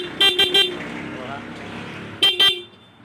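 A car horn sounds from close range: three quick loud toots, a pause over a steady engine hum, then two more short blasts.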